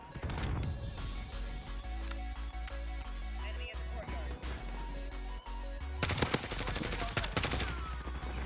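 Rapid automatic gunfire rattles throughout a Call of Duty: Modern Warfare match with GRAU and MP5 weapons, with dense bursts and sharp shots and a louder flurry near the end, under occasional speech.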